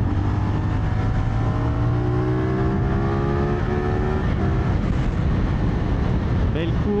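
A CFMOTO SR450 motorcycle engine droning loudly and steadily while being ridden through curves, its pitch rising and falling across gear changes under heavy wind rush, with a rider speaking over it.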